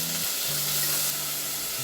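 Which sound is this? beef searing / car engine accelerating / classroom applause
beef searing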